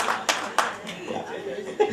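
Applause at a Holi kavi sammelan (poetry gathering) comes in a few sharp bursts of clapping, with chuckles and some talk from the crowd mixed in.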